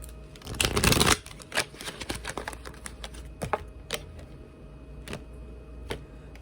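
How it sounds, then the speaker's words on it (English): Cards shuffled and cut from a tarot-style deck: a brisk riffle opens the clip, followed by scattered soft taps, flicks and snaps of the cards, close and fairly quiet. "Oh, I ain't cut this deck in a minute"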